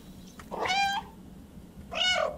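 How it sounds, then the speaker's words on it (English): A cat meows twice in the video game Stray, with two clear, close, drawn-out calls separated by a short pause and no talking. "yes, you can meow on command"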